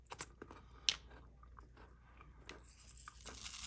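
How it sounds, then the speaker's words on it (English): Cookies crunch during chewing, with sharp, close bites and irregular crackling chews spread across a quiet room, faint overall and without talking. "You'll probably hear the crunching that I'm chewing."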